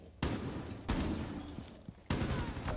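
Bursts of light machine gun fire in an online shooter video game crack out in three loud, sharp onsets, each followed by a dense, rolling stretch of rapid shots and rumble.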